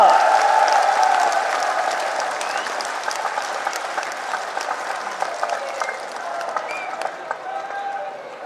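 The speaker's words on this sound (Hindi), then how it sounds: "एक बार इस प्यार के लिए खड़े होकर ताली बजाएं, अभिवादन करें माननीय ठाकुर राजनाथ सिंह जी का" Standing audience applause for Rajnath Singh at a BJP rally in Haryana, a dense sustained clapping crowd that fades slightly over its length, loud and continuous with no voices on top.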